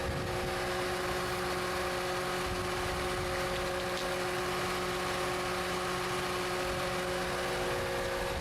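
A New Holland T8 Tier 4 tractor engine runs steadily with a constant droning hum and mechanical whine, unchanging throughout, fairly loud with no voices.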